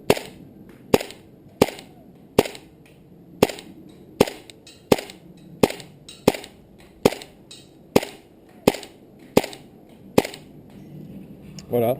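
HPA-powered Tokyo Marui MP7 gas blowback airsoft replica firing single shots, about fifteen sharp, close cracks at a steady rhythm roughly every two-thirds of a second, with quiet pauses between.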